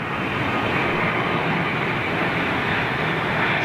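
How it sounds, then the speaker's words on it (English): Steady broadband roar of a Virgin Boeing Dreamliner jet at Heathrow airport, loud and continuous with no breaks, heard alone without voices. "looks like Virgin's Dreamliner"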